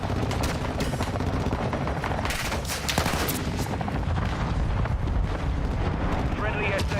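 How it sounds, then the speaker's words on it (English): Constant loud battlefield din in Call of Duty Warzone as a friendly mortar strike lands: dense rattling gunfire mixed with repeated booming explosions, thick and continuous for the whole stretch. "Friendly mortar strike inbound."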